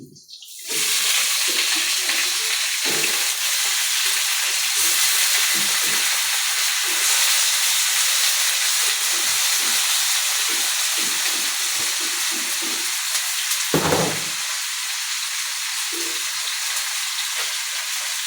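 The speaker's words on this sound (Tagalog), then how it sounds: "Pagka medyo nakaramelize na yung bawang, lagyan na natin yung chicken." Chicken pieces sizzling in a pan with caramelized garlic for kinamatisang manok, a steady loud frying hiss throughout with brief clatters of stirring, no voices.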